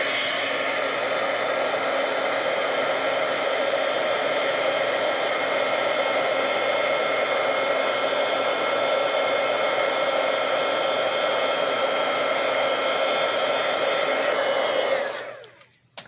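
A heat embossing tool blows a steady, loud, even whir as it melts embossing powder on a handmade stamped card, running unbroken for about fifteen seconds before cutting off abruptly.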